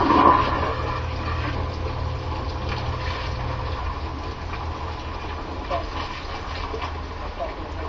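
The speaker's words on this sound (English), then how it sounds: "now I'm going to carefully take and pour some of this water off." Water is poured off jars of cellared pipe tobacco, a steady splashing rush that runs close and fairly loud for several seconds without a break.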